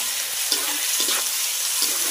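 Onions fry in a pan for duck curry, giving a steady, close sizzling hiss broken by a few soft stirring scrapes.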